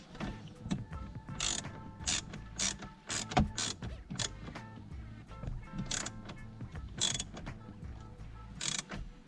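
A screw is turned by hand back into a vent phone mount in a 2019+ Ford Ranger, giving quiet close-up clicks, ratcheting ticks and small plastic creaks in an irregular run.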